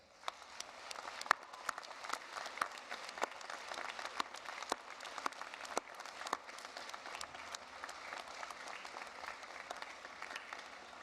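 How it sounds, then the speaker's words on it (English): A graduation ceremony audience applauds at length, a soft, distant and even patter of many hands with occasional sharper individual claps popping out of the crowd. "give them a rousing round of applause"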